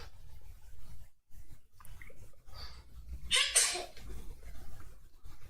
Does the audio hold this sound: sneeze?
yes